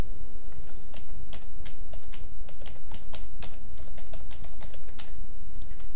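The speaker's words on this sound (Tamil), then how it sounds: "இப்போ நான் இங்கே டைப் பண்ணுறேன்." Fingers tap rapidly on a computer keyboard at a desk, a close, crisp run of irregular clicks over a steady background hiss with no talking.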